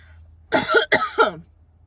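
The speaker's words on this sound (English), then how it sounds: "Confirmation coughs." A person coughs three times in quick succession, close and clear, with silence before and after.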